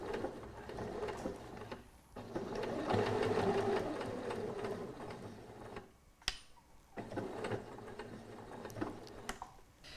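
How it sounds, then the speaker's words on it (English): Sewing machine stitching down the folded edge of a fabric tote bag, a steady mechanical whir running in bursts with brief pauses and a click between runs, close and moderately loud. "I'm just going to stitch down that edge."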